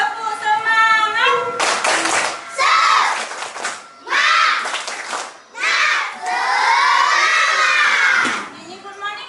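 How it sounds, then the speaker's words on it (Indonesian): Children shout and clap together in a classroom, a loud rhythmic group clapping chant with bursts of young voices and cheering, close and energetic throughout. "yuk tepuk semangat dulu"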